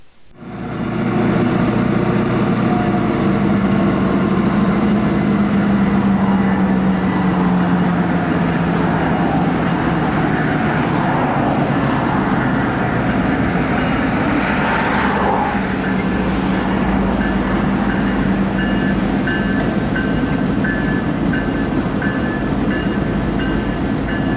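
A Norfolk Southern GP59E diesel locomotive works a rail yard alongside a slug unit and a GP38-2, its engine droning loudly and steadily throughout, with squealing wheels and rumbling railcars nearby.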